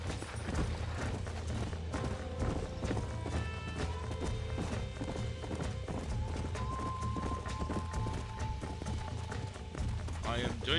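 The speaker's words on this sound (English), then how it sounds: "Get back here, horse. Quit trying to walk off." A horse's hooves clip-clop steadily in a Western ranch game scene, with background music and speech over the top.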